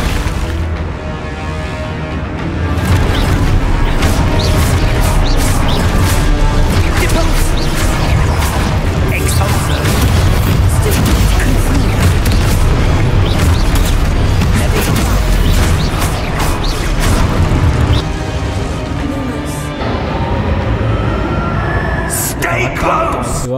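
Spell impacts in the video game Hogwarts Legacy, loud booming crashes and blasts in quick succession over a dense, continuous battle din, with voiced spell incantations shouted over the action.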